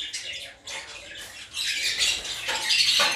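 African lovebirds, including a violet masked bird, squawk and chirp in cages draped with cloth against the cold. Shrill calls overlap and grow busier and louder toward the end.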